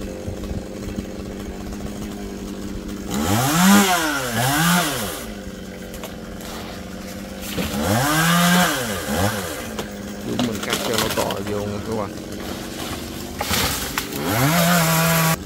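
A small chainsaw cuts through a large green kapok tree, its engine revving in repeated loud bursts of sustained whine between idling lulls, with faint voices and birds in the background.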